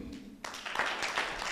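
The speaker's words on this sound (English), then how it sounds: "Okay, a clap for Mercy." Audience applause for Mercy, a presenter at a protein summit, breaks out suddenly after a brief quiet moment and carries on as steady, moderately loud clapping.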